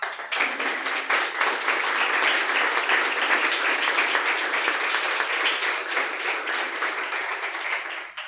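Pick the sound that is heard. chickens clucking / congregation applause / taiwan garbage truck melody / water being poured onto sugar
congregation applause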